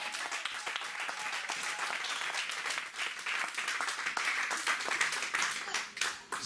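A church congregation applauds the Lord with sustained, dense clapping from many hands, loud and steady throughout with no voices standing out.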